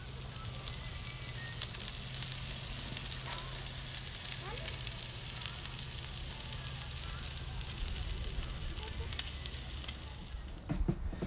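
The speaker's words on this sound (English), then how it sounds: "We'll show you some bacon, a little bit of bacon pans" Steady sizzling and crackling of bacon frying in a pan, a constant hiss running throughout with a low hum underneath and a few clinks near the end.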